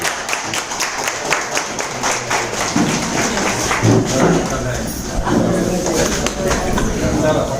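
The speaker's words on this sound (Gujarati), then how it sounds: "જોરદાર તાળી સાથે ઓર કરોડ" Applause from an audience at a business seminar in a hotel: dense, steady clapping fills the whole stretch, with voices mixed in beneath it.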